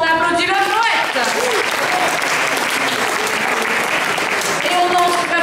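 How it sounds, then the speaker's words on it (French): Loud, sustained audience applause for a poet at a slam poetry competition fills the whole clip, with a voice audible at the start and end. "On applaudit le poète."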